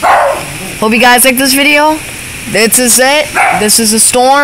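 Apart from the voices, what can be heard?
dog barking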